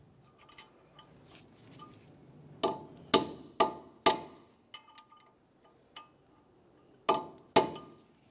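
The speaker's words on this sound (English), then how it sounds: "We're going to peen the nut down into that slot using a hammer and a punch." Sharp metallic strikes of a hammer on a punch peen an axle nut into the slot of a 2006-2011 Honda Civic axle shaft, arriving in irregular single blows and small clusters, with quiet pauses between.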